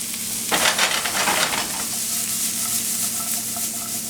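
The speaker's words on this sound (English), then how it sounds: "Just saute that a little bit." Mushrooms, onions, green pepper and smoked ham sautéing over fairly high heat for a frittata, a loud close sizzle that swells sharply as the food hits the pan, then settles into a steady crackling fry.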